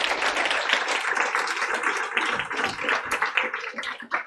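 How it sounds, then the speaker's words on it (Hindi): Students in a lecture class clap their hands together on cue, a loud busy round of applause from a room full of people that rolls on steadily and thins slightly toward the end. "जोर से तालियां बजाओ।"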